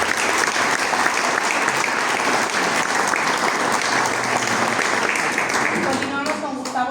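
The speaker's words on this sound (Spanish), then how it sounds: "Un aplauso también." Sustained audience applause at a round-table political panel on history, steady and dense throughout, tapering near the end as a voice begins to speak.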